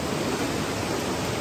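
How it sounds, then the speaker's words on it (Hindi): Steady broadband rush of water cascading down the gorge at Watkins Glen State Park, a continuous hiss with no distinct events and no voices. "नीचे गॉज से पानी की आवाज आ रही है।"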